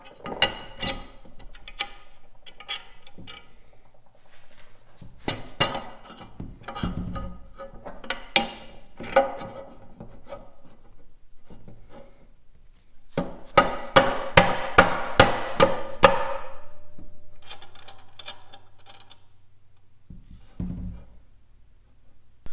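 A bandsaw gearbox is being assembled by hand: scattered metallic clicks, taps and knocks of parts being fitted, with a denser run of sharp hammer-like raps midway, close and otherwise quiet.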